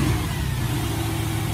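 A Chevy Apache truck engine revs loudly and close by, a steady, dense roar that holds for a second and a half with no voices over it.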